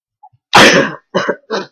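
A person sneezes: one sharp, loud burst followed by two shorter, softer bursts in quick succession, close up with no other sound around them.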